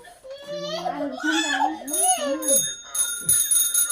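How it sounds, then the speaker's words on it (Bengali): A child's bicycle bell rings with bright, steady tones over a voice, which is crying and speaking, close and fairly loud. "না বেল বাজে, বেল।"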